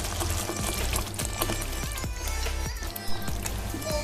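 Marinated chicken goes into a pan of frying masala for a Punjabi chicken gravy, giving a loud, close burst of sizzling and wet splattering with a few soft knocks.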